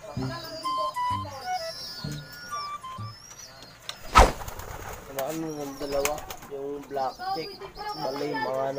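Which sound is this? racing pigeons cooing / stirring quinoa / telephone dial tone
racing pigeons cooing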